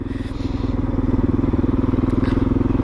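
A 2019 SWM Gran Milano 440 motorcycle engine idles steadily nearby with a low, throbbing rumble and fast, even pulses, loud and unbroken.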